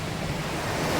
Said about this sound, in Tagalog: dinig na dinig nyo ba yung hampas ng dagat